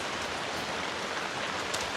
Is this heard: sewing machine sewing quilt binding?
no